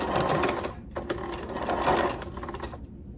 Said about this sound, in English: my sewing machine has a really hard time doing small pieces, small hems, because it's old